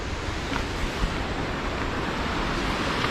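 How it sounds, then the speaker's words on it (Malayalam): Water rushes over a waterfall released through an opened dam shutter, a dense, steady roar of broadband noise, loud and unbroken throughout. "വെള്ളച്ചാട്ടം"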